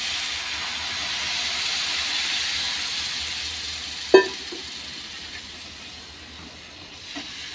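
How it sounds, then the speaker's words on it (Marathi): Cold water hits hot roasted semolina in a pan while making upma, setting off a loud steamy hiss that slowly fades, broken by a single sharp clink partway through. "आता यामध्ये आपण पाणी टाकूया। पाणी येथे मी थंडच घेतलेलं आहे।"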